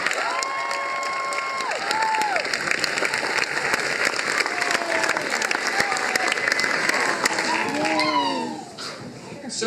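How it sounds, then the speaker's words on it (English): An audience at a high school band year-end awards ceremony gives a round of applause for the drumline, with continuous clapping and some cheering and shouts throughout. "So give them a round of applause for"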